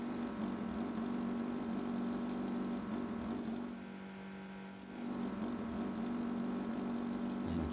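A motorbike engine in the Android open-world driving game Real Drift World hums at a steady idle, dipping quieter for about a second midway before returning to the same droning level.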